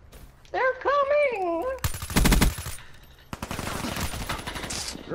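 Gunfire in a team deathmatch video game: a sustained burst of rapid automatic shots, then a second long, dense volley after a short gap, loud and close, with a brief voiced call at the start.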